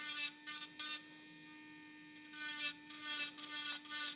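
An electric nail drill files gel nails, a high whirring buzz in several short bursts over a steady low electrical hum, close by.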